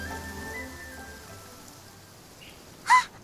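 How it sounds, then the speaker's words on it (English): Rain falls in the video game Genshin Impact as a soft, steady hiss. Faint musical tones fade out early and a brief bright chime rings near the end, with no one talking. "did it start raining?"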